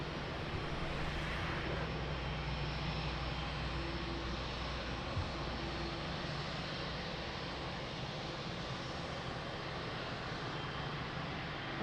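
A United Airlines Boeing 777 jet at Lisbon Airport gives off a steady, distant engine roar that holds evenly throughout, faint and without voices.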